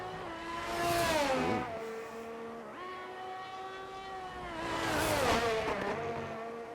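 Game race cars on hot laps around the China circuit, a Ferrari among them, screaming past with rising and falling engine notes, two loud passes a few seconds apart and a driver losing control at the final chicane.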